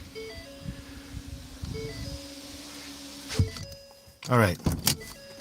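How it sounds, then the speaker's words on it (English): Car power windows rolling up, a steady motor whine with a brief pause partway through, followed by a door closing and louder clunks near the end; a person speaks briefly. "Now, rolling up the windows."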